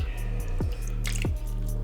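Broth poured over plated chicken and rice, heard as a few close, wet drips and squishy splashes over a steady background hum.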